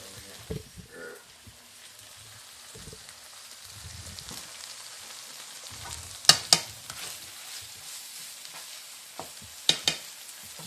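Migas, eggs with tortilla and pepper, sizzle and fry in a pan while being stirred and scraped, a soft continuous crackle with scattered utensil clicks and a few sharp knocks, close and without talking.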